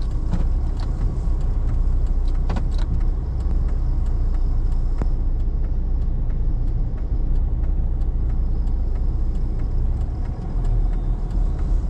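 A car with loose springs drives and turns on a trip through Jim Corbett Tiger Reserve. Its engine gives a steady, close rumble, with light rattling clinks running throughout and no talk.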